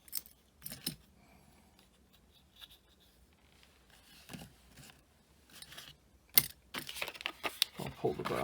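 A Honda CR-V key fob is pulled apart, giving a few sharp plastic clicks and snaps that grow denser and louder toward the end, with quiet handling noise between them.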